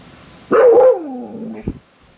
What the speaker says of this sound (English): She does bark, kinda.